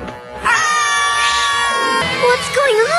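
A crowd in a cartoon lets out a loud, shrill scream that carries on for about three seconds, with rising and falling voices layered together.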